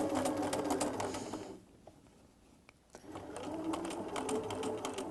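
Sewing machine slowly stitching curves in a quilt, a close steady mechanical whir that stops briefly in the middle and then resumes at an even pace.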